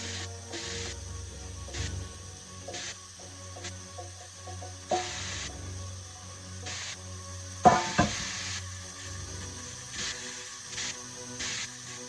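Ground meat frying in a pan gives a soft continuous sizzle, with scraping stirs and occasional louder clacks of the utensil against the pan, recorded close with no talking.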